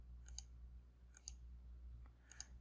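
Three quiet, crisp clicks of a computer mouse, spaced about a second apart, while drawing a polyline in AutoCAD 2022.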